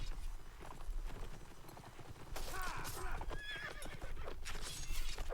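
Cavalry horses in a strategy video game clatter with hoofbeats while one or more neigh and whinny sharply over the galloping, amid a busy battle mix.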